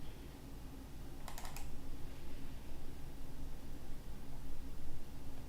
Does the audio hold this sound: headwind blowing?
no